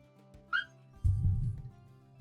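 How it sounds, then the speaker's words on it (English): A dog whimpers and yips after getting its tail caught under a chair, a short high cry followed by a louder low rumble of movement, near and indoors. "Dog got his tail stuck underneath my chair."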